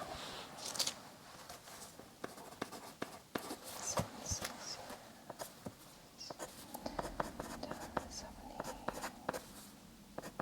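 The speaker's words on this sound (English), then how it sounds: "Just write that down." A pen scratches notes onto paper in a quiet medical-assessment setting, soft close strokes and taps in irregular bursts, with a faint whispering voice now and then.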